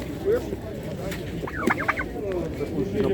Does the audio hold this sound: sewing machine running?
no